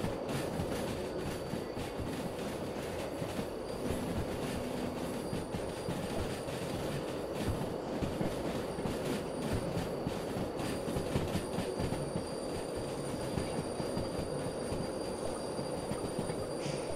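Long steel-rail freight train in the Derail Valley simulator game slowing to a stop, with a steady rolling rumble, clickety-clack of wheels and faint squeal, continuous and fairly loud throughout with no talking.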